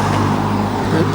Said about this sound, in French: il y a une Mustang qui nous passe derrière